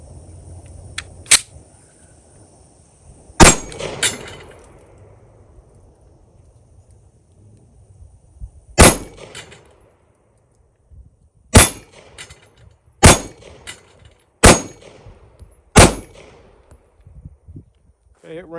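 Sharp, loud gunshots from a Smith & Wesson M&P Shield 9mm EZ pistol at a shooting range, spaced out irregularly at first and then coming in a quicker run of about five near-evenly spaced shots, with faint talk in between.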